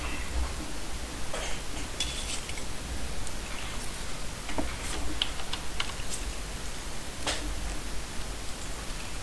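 Rapid typing on a computer keyboard during an online gaming session, a steady patter of light key clicks with occasional sharper taps, close to the microphone under a constant hiss of background noise.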